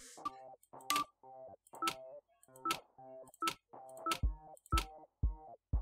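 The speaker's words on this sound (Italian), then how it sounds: "voglio chiamare un altro numero" Telephone keypad tones from the video game The Wardrobe, a number dialed as a run of short, evenly spaced tonal beeps, fairly loud and clear, with a few deeper thumps near the end.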